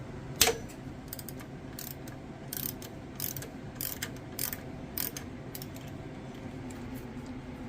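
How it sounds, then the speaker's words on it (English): A ratchet with a 10 mm socket cracks loose the upper alternator bolt on a Honda, giving several short, quiet bursts of rapid clicking spaced across the clip, with one sharper metallic knock near the start. "So now I go in with a 10 mil, crack the upper bolt loose"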